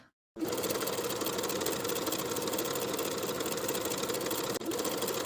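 A sewing machine runs continuously, edge stitching the folded inner edge of a tank top facing: a fast, even mechanical whir close by, starting after a brief silence with a momentary dip near the end.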